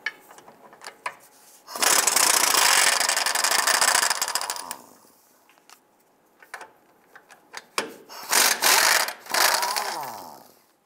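A socket ratchet loosens 15 mm transmission mount nuts on a 2002-2008 Dodge Ram 1500, with long bursts of rapid clicking, then scattered clicks and short ratcheting runs, close and loud.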